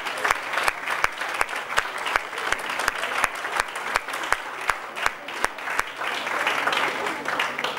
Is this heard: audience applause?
yes